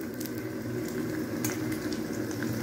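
Meat fries in a pan, producing a continuous, even bubbling sizzle at moderate volume with a few small pops, close by and without voices.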